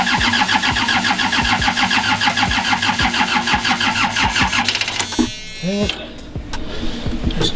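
A glow-plug engine on a skid-loader brine sprayer rig cranks with a loud, steady rhythmic churn for about five seconds, then cuts out abruptly, leaving a brief voice and scattered low knocks.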